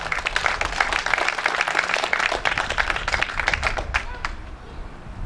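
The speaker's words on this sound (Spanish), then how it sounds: "Denle un aplauso a Jesús." A church congregation claps, a lively burst of many hands that is loud at first and thins out toward the end, with some voices mixed in.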